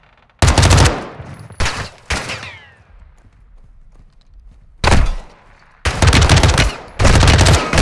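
Gunfire in the video game Call of Duty Modern Warfare 2 (2022): loud, close bursts of rapid automatic fire, several separate volleys broken by short pauses with faint background rumble.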